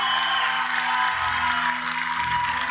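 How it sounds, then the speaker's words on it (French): A TV talent-show studio audience on Antenne Réunion claps for a contestant, a dense, steady patter of applause heard at moderate level, with faint sustained musical tones underneath. "Applaudissements pour Anthony, s'il vous plaît."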